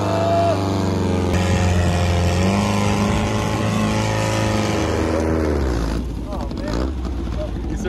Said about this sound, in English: That was a heavy rev. For an old engine.